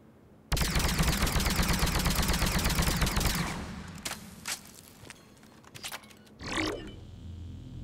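The Indra rifle in the Mass Effect 3 video game fires at long range in a sustained rapid burst lasting about three seconds, followed by a few scattered shots and clicks.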